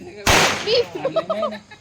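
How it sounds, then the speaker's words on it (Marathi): A single sharp, loud bidi bomb firecracker bang goes off nearby during Diwali, followed by people talking and laughing. "बिडी बॉम्ब बिडी बॉम्ब"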